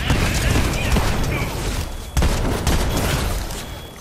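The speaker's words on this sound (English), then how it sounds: "Man, why are those shots going through him?" Dense, continuous gunfire and booms from a multiplayer video game firefight, loud and unbroken throughout, with a sharp burst of shots partway through and faint voices mixed into the din.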